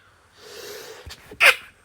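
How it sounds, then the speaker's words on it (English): A single short sneeze bursts out after a few quick breaths, close and fairly loud, with otherwise quiet surroundings. "Well, sneezed."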